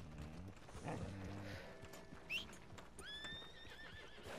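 A horse in Red Dead Redemption 2 clip-clops in a short run of hoofbeats, then lets out a rising, wavering neigh, with a couple of soft game effects in between, all fairly quiet.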